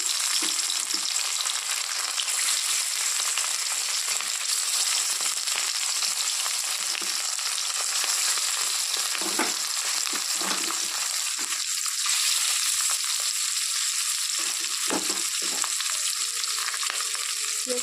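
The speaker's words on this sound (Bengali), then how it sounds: "তেল গরম হয়ে গেছে তেলের মধ্যে এখন মাছ ছেড়ে দিচ্ছি" Bhola fish sizzling and spitting steadily as pieces are dropped into hot mustard oil in a wok, a continuous close crackle with a few brief clatters, no talking.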